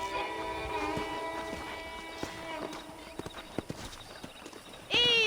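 Horses clip-clop steadily in the Red Dead Redemption video game, hooves thudding at an even pace, then a loud, bright neigh erupts near the end, with faint game ambience underneath.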